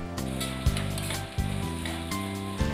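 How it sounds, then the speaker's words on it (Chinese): Grated coconut and pandan leaves stirred with palm sugar syrup over low heat in a multi-layer stainless steel pan, a steady soft sizzle broken by a few sharp scraping strokes of the spatula, close and without talk. "首先，我们用小火把椰丝和香兰叶翻炒片刻，再加入椰糖浆"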